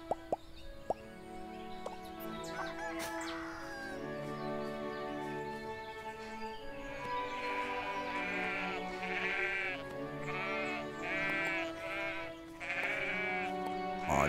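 Several sheep bleat in the farming video game Everdream Valley, with wavering calls overlapping in repeated bursts over a steady background of game music, fairly close and clear, with no talking.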